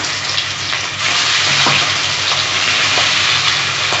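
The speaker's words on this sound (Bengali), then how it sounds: "যার জন্যে আমি লবণ, হলুদ আর সর্ষের তেল মাখিয়ে মাছটা এবার ভেজে নেব" Fish coated in salt, turmeric and mustard oil fries in a pan, giving a loud, steady hiss and crackle that fills the whole stretch without a break.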